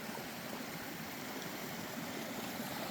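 A creek flows at the bottom of a canyon along a hiking road, a steady, even rush of water with no pauses, moderately faint and with no voices.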